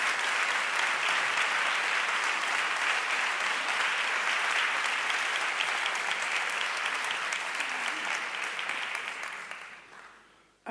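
Audience applause at a conversation event, a long, dense wash of clapping from many people, loud and sustained for about ten seconds before tapering off at the end.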